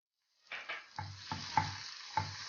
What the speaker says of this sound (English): We had already boiled the mushrooms. Now let them saute.